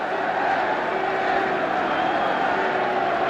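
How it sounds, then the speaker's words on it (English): A packed rugby stadium crowd at a 1972 Wales versus New Zealand test match roars continuously, a dense, steady wash of distant voices sustained at full volume throughout. "And just listen to the roar from this crowd as the red jersey appears."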